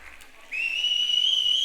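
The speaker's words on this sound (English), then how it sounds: "let's have a whistle for them" A single sharp, high whistle starts suddenly and holds steady for about a second, loud and close over a quiet background, at a conference opening ceremony.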